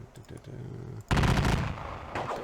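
Loud bursts of gunfire in an American Civil War video game of the Battle of Perryville erupt about a second in, following quieter clatter, with a rapid sustained barrage continuing to the end.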